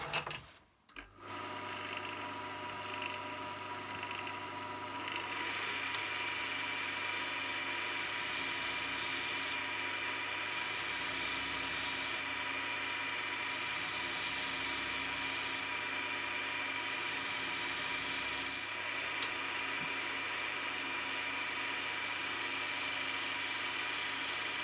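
Steady whirring of a spinning wood lathe with a gouge scraping a turning wooden goblet, a continuous hum with intermittent rougher cutting passages over cracking and tear-out.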